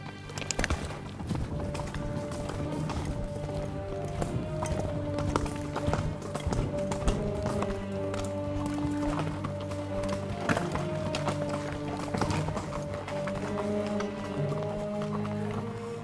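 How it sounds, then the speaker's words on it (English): A horse lopes along a trail, its rhythmic hoofbeats thudding steadily and close throughout, with a continuous background hum under the gait. "Go ahead and lope her."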